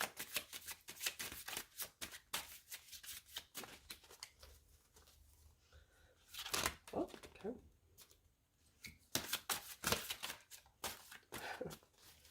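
Playing cards are riffled and bridged in quick, crisp bursts of flapping, repeated several times, with a few brief spoken words mixed in.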